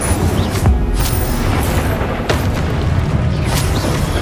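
Incendio fire spell blasts in Hogwarts Legacy, a loud rumbling barrage of repeated booming bursts and crackling impacts layered over dense game combat noise.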